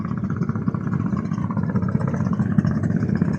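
Passenger launch boats idling and running at a busy river terminal, a continuous low droning engine rumble with a steady throb, fairly close and unbroken.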